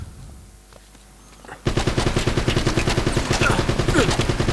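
Rapid automatic gunfire from enemies in the Uncharted video game, a loud dense burst that starts abruptly after a quiet stretch and keeps hammering without pause.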